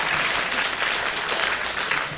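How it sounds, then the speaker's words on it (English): A radio panel-game studio audience claps loudly and densely at close range in a brief, continuous burst. "If so, clap."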